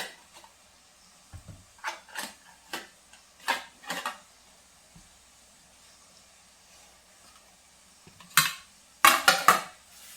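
Idli being stirred and loosened in a metal pot: a series of short, sharp metallic scrapes and clinks in scattered bursts, louder in a cluster near the end, with quiet gaps between.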